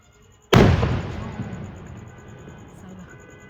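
A single sharp gunshot cracks out loudly, followed by a long rumbling echo that slowly fades away.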